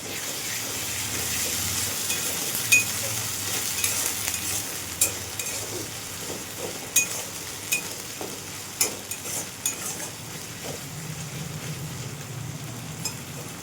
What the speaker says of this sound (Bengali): এরপর হলুদ গুঁড়ো আর স্বাদ অনুযায়ী নুন দিয়ে এটাকে আমি ভালো মতো কষিয়ে নিব